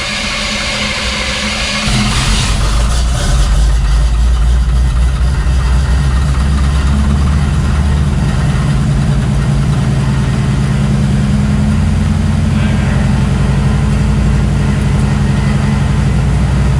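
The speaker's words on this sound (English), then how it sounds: "so I'm gonna start the truck up." A Chevrolet C10 pickup truck engine cranks and catches about two seconds in, then settles into a steady, close, low idle rumble that runs to the end.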